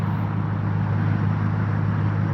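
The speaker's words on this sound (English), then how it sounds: "You see the traffic." Road traffic passing with a steady low engine rumble and broad roadside noise, continuous and moderately loud throughout.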